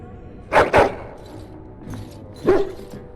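A dog in Dragon Age: Origins gives two quick, close barks, then a quieter yip, then another single bark, each sharp and short over a faint ambient background.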